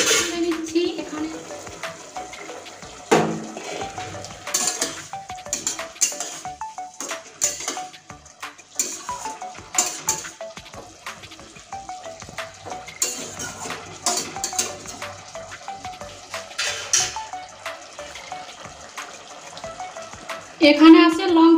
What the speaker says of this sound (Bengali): আরো ভালোভাবে কষতে থাকবো, আর আলুটাও সেদ্ধ হয়ে যাবে।